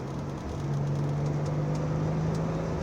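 A 1990 Nissan 300Z engine hums steadily in third gear, a close, even drone whose pitch rises slightly as the car pulls, heard from inside the cabin with road noise beneath.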